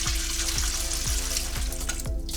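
Water is poured into slushie syrup mix, a steady close splashing stream with a few soft rhythmic knocks.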